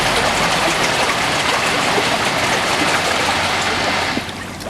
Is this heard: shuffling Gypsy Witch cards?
no